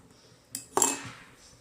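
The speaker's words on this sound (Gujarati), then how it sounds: "આપણે તેને ધીમા ગેસ ઉપર હલાવતા રહેવાનું છે, તેથી તે ઉભરી ના જાય અને નીચે ચોટી પણ ના જાય." A metal spoon clinks twice against a pot of almond milk simmering on low heat, a light tap followed by a brighter ringing knock that fades out, close and otherwise quiet.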